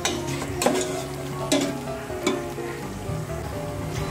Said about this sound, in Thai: มันเริ่มเดือดนะคะเคี่ยวต่ออีกหน่อยนึงจนให้มันมีแตกมันเลยนะ